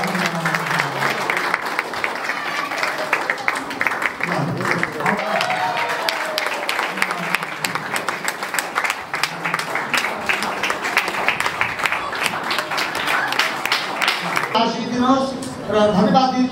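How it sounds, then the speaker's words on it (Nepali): An audience claps at a Christian engagement ceremony, a steady wash of applause running the whole time beneath voices and a tonal background, swelling louder near the end. "ताली बजाइदिनु"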